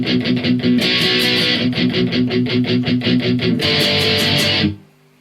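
Loud distorted electric guitar chugs through a palm-muted pop-punk riff, tight rhythmic eighth-note strikes with brief open accents, ending abruptly in silence.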